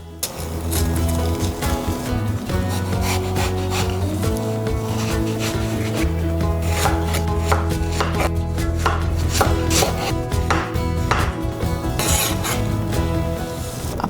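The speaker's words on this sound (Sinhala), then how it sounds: "මුලින්ම වම්බොටු ටික තීරු වලට කපා ගන්න ඕනේ." A knife cuts eggplant into strips on a board with steady, rapid chopping, a dense run of close, crisp knocks for the whole stretch and no talk.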